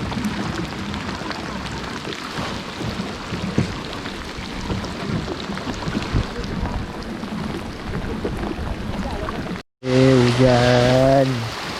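Steady rain hisses down around a fishing kayak near Pulau Bunting, Malaysia, a dense even wash throughout, broken near the end by a sudden louder burst with tonal noise.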